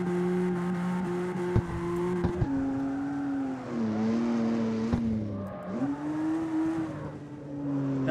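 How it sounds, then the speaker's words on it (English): Toyota Supra drifting in the CarX Street racing game, its engine holding a steady droning note that shifts pitch as revs rise and fall, with tire scrub underneath; continuous and close throughout. "sunrise drifting in a Supra."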